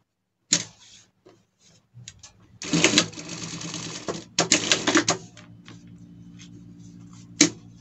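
A sewing machine stitches a seam on a Kiko costume in short bursts of fast rattling whir, close and loud, separated by quiet pauses and small clicks.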